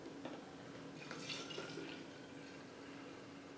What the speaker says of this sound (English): I know we're going to use a good bit of that water, so we'll fill it up, shake it up, get all that goodness out.